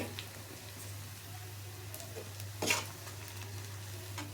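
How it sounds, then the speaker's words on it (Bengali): Onions fry in a pan for an okra dish, a faint soft sizzle with occasional light stirring and one brief louder scrape, over a low steady hum, without talk. "আমার পেঁয়াজটা একটু ভাজা ভাজা হয়েছে"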